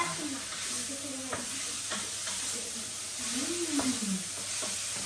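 Red onion, garlic and button mushrooms sizzle softly in a pan for a quinoa risotto, with a steady low hiss and occasional clicks of stirring.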